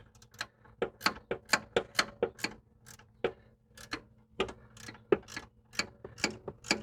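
A small ratchet wrench clicks in quick repeated bursts while tightening a rear upper control arm bolt on a Ford Flex, crisp close-up ticks in irregular strokes with short pauses.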